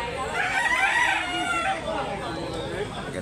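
At a chicken market in Consolacion, Cebu, a rooster lets out one sustained, wavering crow, close and loud, that fades over about three seconds while voices murmur faintly behind it.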